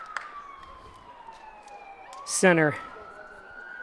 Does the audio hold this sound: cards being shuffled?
no